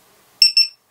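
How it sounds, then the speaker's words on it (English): Two quick, shrill electronic beeps from a drone locator beeper, in close succession, loud and near, with silence before and after. "5 beeps, and then back to 1 beep"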